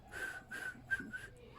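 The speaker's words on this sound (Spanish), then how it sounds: "Puedo chiflar." A person whistles close by, giving three short, clear whistled notes in a quick, even rhythm.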